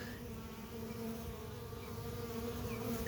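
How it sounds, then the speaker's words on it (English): Honey bees drone steadily around the hive in a dense, continuous buzz, faint but unbroken, with individual insects rising and falling over the hum. "look, there's a bee"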